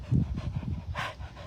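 A dog pants in quick, close, breathy bursts for a brief moment, with no talking over it.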